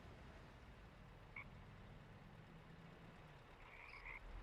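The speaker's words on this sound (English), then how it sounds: "You can hear some sounds. You hear the frogs." Frogs croak in a TruckersMP truck driving game scene, a couple of short faint calls around the midpoint and near the end over a steady low rumble of engine and road noise.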